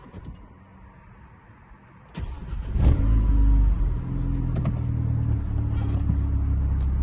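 A Renaultsport Megane 250 Cup with a forged engine cranks over after a quiet moment, catches with a loud rev, then settles into a steady, even idle close by.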